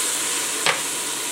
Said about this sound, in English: Give another good stir and just let that cook down for a couple of minutes to release the curry spices